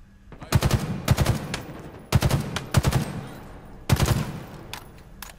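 Bursts of rapid automatic gunfire in Halo Infinite multiplayer come in three long strings of loud, closely spaced shots with short pauses between, followed by a few scattered single cracks near the end.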